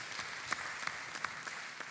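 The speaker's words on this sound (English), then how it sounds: "And we can give him a round of applause." Audience applause at a voter engagement forum in Southwest Atlanta, a steady patter of clapping from a gathered crowd with a few sharper claps standing out, moderately distant and without talk.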